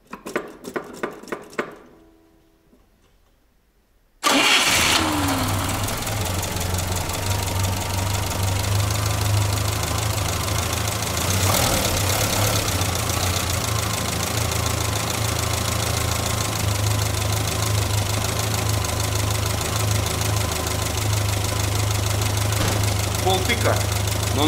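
A GAZ-24 Volga car engine cranks briefly and fires at about four seconds, then settles into a loud, steady idle with a low rumble and light knocking that continues to the end.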